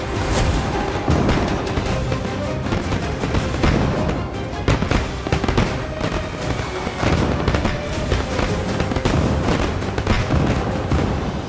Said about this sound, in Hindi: इन पटाखों की आवाज़ में ना मुझे कुछ क्लियर नहीं सुनाई दिया।